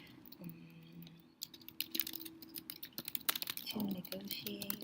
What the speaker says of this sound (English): So let me just type some form of that.